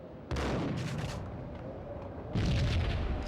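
Two heavy gunshots boom in the Max Payne video game, one near the start and another about two seconds later, each with a rumbling tail and no talking.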